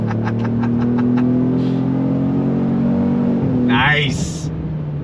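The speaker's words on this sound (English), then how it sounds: "We're gonna go on throttle." A 2025 Ford Explorer Active with a four-cylinder turbo engine accelerating hard on throttle, a steady engine drone rising in pitch, heard from inside the cabin with a brief voice near the end.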